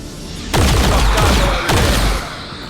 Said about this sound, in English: Let's reload and then shoot.